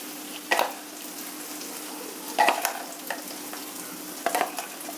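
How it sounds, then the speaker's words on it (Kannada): Ground masala of toor and chana dal is stirred into a simmering onion and fenugreek sambar, with three short scraping stirs over a faint steady bubbling hiss, and no talk. "ಈಗ ರುಬ್ಬಿದ್ದ ಮಸಾಲೆನ ಇದರಲ್ಲಿ ಸೇರಿಸ್ತಾ ಇದ್ದೀನಿ"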